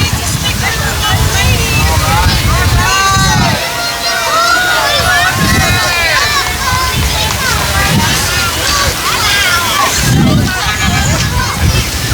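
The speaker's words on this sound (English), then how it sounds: "Just a little breeze, as you can hear today." Wind buffeting a microphone outdoors at a lakeside Fourth of July parade, low rumbling gusts that rise and fall, with people talking and crowd noise over the top.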